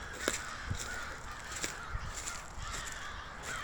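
Crows caw outdoors in scattered, moderately distant calls over a soft background hiss, with no one speaking.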